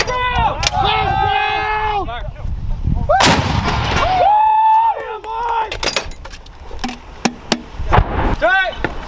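M119A3 howitzers fire rounds in sharp, heavy booms, with one especially loud blast, while crew members shout and call out commands around the guns.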